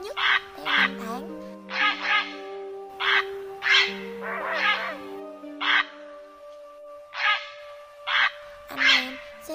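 Grey heron calls, repeated harsh croaking caws in loud bursts spaced about a second apart, with steady tonal chirps and whistles running beneath them throughout.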